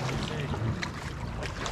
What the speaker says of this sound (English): give the engine a little test fire